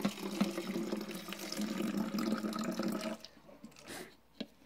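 Lukewarm water pours from a cup into a bowl for homemade slime, a steady splashing trickle for about three seconds before it stops, followed by a few faint drips and clinks.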